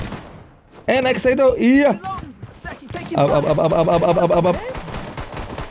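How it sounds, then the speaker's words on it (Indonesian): Bursts of enemy gunfire in the video game Blood Strike, rapid sharp shots crackling in clusters near and loud, mixed with tonal game effects while a player speaks briefly. "Siapa itu yang nembak, guys? Ada yang menembak."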